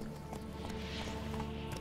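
Horse hooves clatter in a quick galloping rhythm while riding in The Witcher 3: Blood and Wine, a faint, steady clip-clop running under the game's background sound with no speech.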